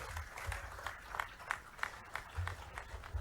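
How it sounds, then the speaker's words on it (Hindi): Scattered, faint applause from an audience at a talent-honouring award ceremony in Bhopal, with loose claps rising and falling across a quiet hall-like background. "जोरदार ताली बजा करके सभी इस पूरे आयोजन का आनंद ले"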